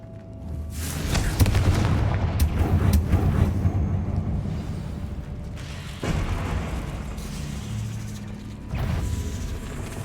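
Booming spell blasts from the wizarding video game Hogwarts Legacy, the Confringo fire spell, erupt as a dense, rumbling barrage with sharp bursts near the start and fresh loud hits around six and nine seconds, no talking.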